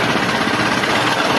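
A Honda Bros 150 motorcycle with a loud mechanical noise in its engine runs close by, a dense rattling, knocking drone that stays steady and loud for a brief stretch.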